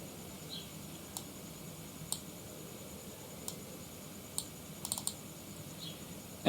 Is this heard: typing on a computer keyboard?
yes